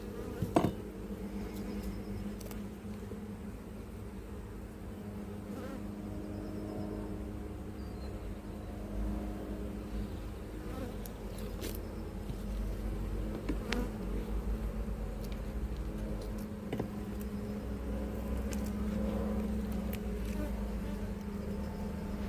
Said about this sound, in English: There's a lot of bees in here now.